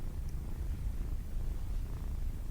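A kitten purring steadily while being petted in a radio drama, a low continuous rumbling purr that stays close and even throughout, with no voices over it.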